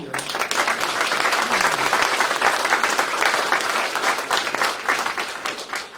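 An audience at a New Year's greetings ceremony in the Châteaufort town hall applauds for a former mayor, thick, continuous clapping that holds steady throughout.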